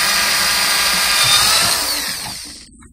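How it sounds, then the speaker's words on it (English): A power drill drives screws into PVC, whining loudly and continuously up close for a few seconds before winding down and stopping. "what we're doing now is screwing screws into the PVC."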